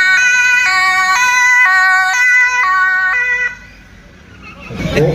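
A beatboxer's voice imitates a police siren at a safety day event in Elst, giving a loud alternating two-tone wail in a steady rhythm, ending in a noisy burst.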